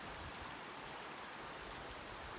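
A small feeder stream beside a hiking trail runs into Wildcat Creek, making a faint, even rush of flowing water with no other sounds.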